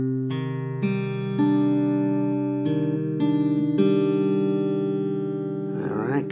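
An electric guitar plays a riff, a run of sustained, ringing notes picked one after another, close and clear, ending in a brief scrape.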